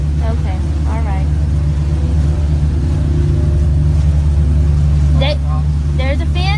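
A rescue boat's motor drones steadily and loudly through floodwater at night, a constant low engine rumble underneath bursts of people talking.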